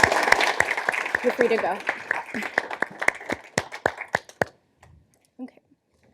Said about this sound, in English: So if we could give everyone up here a round of applause, that would be great.